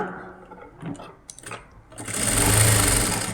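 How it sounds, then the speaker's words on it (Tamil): A sewing machine runs a top stitch along an umbrella gown, starting after a few soft handling sounds and then whirring in a loud, steady, close burst to the end. "தைச்சதை மேலே ஒரு படிமான தையல் போட்டுடுவோம்"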